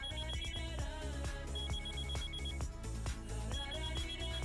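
An outgoing phone call rings through in a Telugu feature film, a steady repeating tonal ring pattern blended with a rhythmic musical backing, loud and continuous with no talking.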